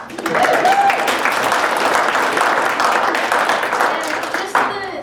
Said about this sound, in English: You can clap for them too.